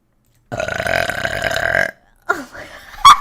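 A long, loud, rumbling burp lasting over a second, followed by a short pause and then quieter voiced sounds ending in a sharp vocal burst.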